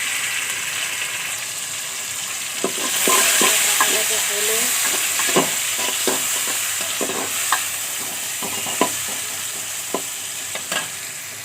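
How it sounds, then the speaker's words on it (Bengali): Onions frying in a pan and being stirred, a steady hiss of sizzling oil broken by sharp clinks and scrapes of the spoon against the pan, close up, with a few brief spoken words. "পেঁয়াজ ভাজা ভাজা হয়ে গেছে"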